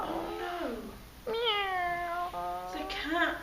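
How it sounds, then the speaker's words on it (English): A cat sound effect for a story, heard as three distinct, close meows with rising and falling pitch, each one clear and prominent. "The cat!"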